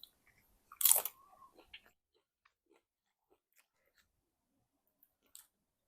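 Close, sharp crunch of a bite into crispy nachos topped with vegetables and cheese, followed by a few quieter chewing crackles, then near silence with one last faint crunch.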